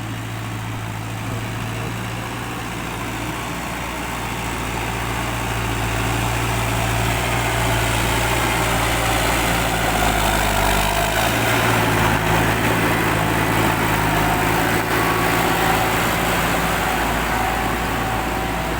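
A 106-horsepower New Holland T5060 tractor engine runs steadily while pushing soil, giving a continuous low, droning rumble that stays loud and close and rises slightly midway, with no speech.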